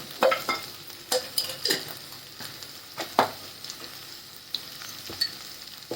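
Okra cooking in a pan with a spoon of oil, giving a steady low sizzle punctuated by sharp scraping and clinking strokes from stirring, close and moderately quiet.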